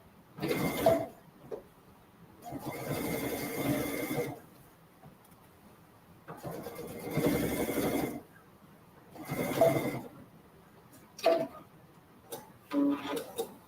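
A sewing machine runs a lengthened straight stitch along kids' boardshorts in several separate runs of a few seconds each, with quiet pauses between them.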